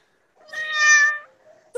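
A pet cat gives one clear, loud meow close by, rising and then falling over about a second, with a brief faint trailing sound afterward.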